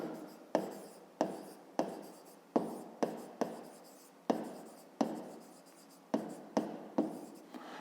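Chalk strikes and scrapes across a classroom board in a series of about a dozen sharp taps, each followed by a short trailing scratch, close and fairly quiet with no talking over it.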